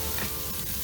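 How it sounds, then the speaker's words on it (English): Burgers sizzle over a campfire at a lakeside campsite, a soft, steady crackling fry heard close and alone for a brief moment. "Right now we're making burgers."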